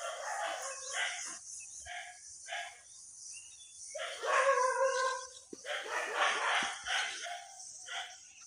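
Village dogs barking at something in a rural Bangladeshi setting by a dried-up river, mixed with rooster-like calls and birds, several barks at moderate distance over ambient chatter.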